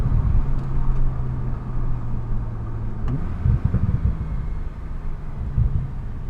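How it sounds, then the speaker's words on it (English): A Porsche 911 Turbo S 991 coupe engine idles with a steady low drone, then rises into rumbling surges as the turbos spool up and release boost, heard close from inside the car. "you hear those turbos spooling up and then releasing their excessive boost"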